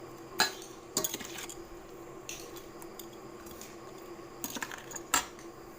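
Hand-mixing chopped pumpkin and borali fish with salt and turmeric in a dish, giving a few soft clinks and wet squishes at irregular intervals, faint and close with no voices.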